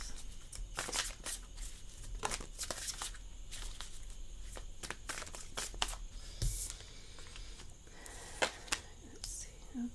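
Close, quiet shuffling of a tarot deck, with papery riffles and soft card slides coming in short irregular bursts and a few sharper snaps.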